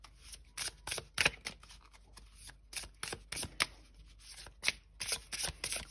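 Tarot cards are shuffled and handled close up in a steady run of crisp riffles and soft slaps, irregular in rhythm and fairly quiet, with no voice over them.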